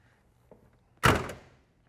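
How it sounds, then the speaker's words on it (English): The passenger door of a 1965 Pontiac GTO convertible opens with a single solid thunk of the latch, preceded by a faint click, alone and fairly close. "when we open up the passenger side door."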